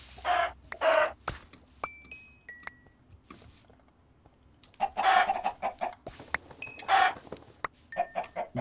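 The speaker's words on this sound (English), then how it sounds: "now we're finding all the chickens" Chickens in the Minecraft video game cluck in two loud bursts of repeated clucks with short squawks in between, separated by a quieter stretch.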